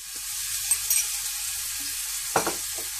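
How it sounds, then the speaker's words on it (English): Ginger garlic paste sizzles steadily in hot oil for a chicken fry, a continuous bright hiss with a few soft stirring knocks, the loudest near the end, and no voices. "Now I am adding the remaining ginger garlic paste, which is approximately 2 tablespoons."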